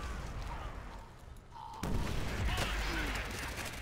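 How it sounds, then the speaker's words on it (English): A heavy airstrike blast in the World War II shooter Call of Duty: World at War, a sudden loud boom followed by sustained rumbling gunfire and battle noise. "I thought it was just boop and then massive explosion."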